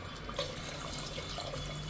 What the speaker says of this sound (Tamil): இப்போ நம்ம தண்ணி ஊற்றிக்கலாம். தண்ணி ஒரு 2 லிட்டர்ஸ் தண்ணி ஊற்றிக்கலாம்.